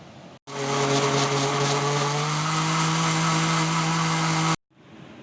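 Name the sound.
blender blending soaked bread with water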